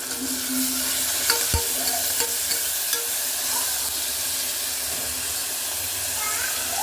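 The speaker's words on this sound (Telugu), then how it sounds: "పుదీనా కొత్తిమీర ఎంత ఫ్రెష్గా ఉందో ఇందులో వేసి వేయించేద్దామండి బాగా" Fresh mint and coriander leaves frying in a pan for restaurant-style tomato rice, a steady close sizzle with a few sharp stirring clinks and scrapes.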